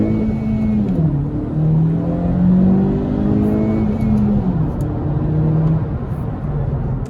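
A 2016-era Honda Civic 1.5 turbo with 182 horsepower pulls hard from a standstill toward 100 km/h, its engine note climbing steadily through the revs with a dip at a gear change, heard loud and close from inside the cabin.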